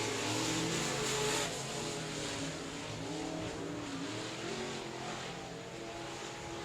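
Race cars roar past on an oval track at South Texas Speedway, a dense, loud engine drone that swells and fades as cars accelerate, with no voices over it.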